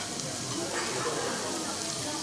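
Steady broadband sizzling of beef ribs on a hot grill, with a voice talking over it.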